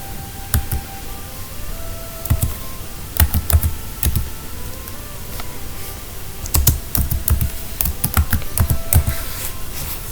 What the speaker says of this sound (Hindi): जैसे मैं यहाँ लिखती हूँ इंटीरियर,